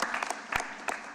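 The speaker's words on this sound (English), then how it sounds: "give him a round of applause in his absence" A short burst of applause from a council meeting audience, scattered claps at moderate distance that fade within about a second.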